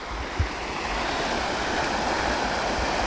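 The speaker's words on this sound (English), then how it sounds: "It's like a raging river." Rushing water of a raging river in a canal-like channel near Eldorado Springs, Colorado, a continuous loud roar heard close up with one brief bump near the start.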